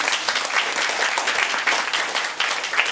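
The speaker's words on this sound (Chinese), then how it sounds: "我们一起掌声给大家鼓励" Audience members at a talk introducing a music festival give a round of applause, dense, even clapping filling the room steadily for a few seconds.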